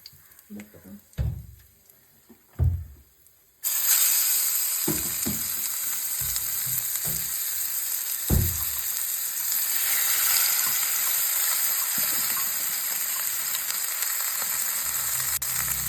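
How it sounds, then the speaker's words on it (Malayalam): Pearl spot fish frying in hot oil with curry leaves: a steady, loud broadband sizzle begins suddenly after a few quiet knocks and clatters, then continues unbroken, with occasional utensil taps. "അപ്പോൾ കുറച്ച് എണ്ണയാക്കിയിട്ട് നമ്മൾ മീൻ പൊരിച്ചെടുക്കുകയാണ് കുറച്ച് കറിവേപ്പില ഇട്ട് കൊടുക്കുക"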